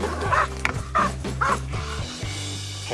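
Hunting dog barking at a bear during a bear hunt in the Itcha Mountains, a rapid series of close, loud barks and yips in a rhythmic run.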